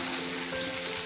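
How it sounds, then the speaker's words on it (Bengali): Dried chillies and garlic sizzle in hot mustard oil, a steady, close, broadband crackle and hiss that holds evenly for about a second with no voices. "সর্ষের তেলটা গরম হয়ে যাওয়ার পর শুকনো লঙ্কা আর রসুনের ফোড়ন দেবো"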